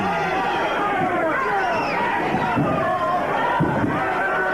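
A wrestling crowd roars steadily through a tag-team match, with dense chatter and shouting from the arena audience alongside a few thuds from the ring.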